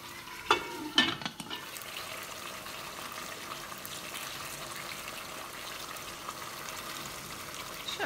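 Water with chicken pieces in a pan comes to the boil, a soft, continuous bubbling sizzle that holds steady after a couple of brief clinks at the start.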